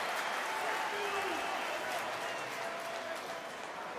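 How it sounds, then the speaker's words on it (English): Rugby stadium crowd at a Bristol versus Harlequins match applauding a substitute coming on, a broad distant wash of clapping and cheering that runs steadily throughout beneath the arena ambience. "On comes John Arfoa to raucous applause"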